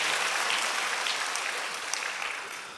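Steady applause from a church congregation during a worship service, a dense even wash of many hands clapping throughout, fading slightly toward the end.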